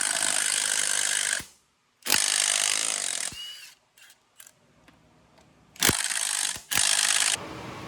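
Bursts from a power tool loosen the front wheel fasteners on a jacked-up Arctic Cat Wildcat 1000, with several loud whirring runs broken by pauses and a few short clicks and clanks of the tools.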